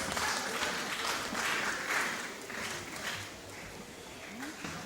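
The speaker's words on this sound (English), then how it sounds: "please can we give them a round of applause?" Audience applause at a Nigerian Bar Association Lagos law week event, greeting panel members walking to the stage; steady, moderately distant clapping that holds for the whole stretch with some swells and no talk over it.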